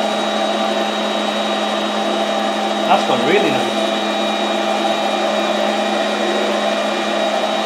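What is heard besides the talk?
vacuum cleaner running at reduced speed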